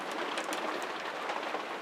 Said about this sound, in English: So here we are in a rainy shed